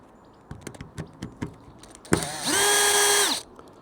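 A power driver with a T15 bit backs out stainless steel screws on an MTM SGS35 stubby trigger gun, with light clicks and handling, then a loud, steady whine for about a second before it cuts off.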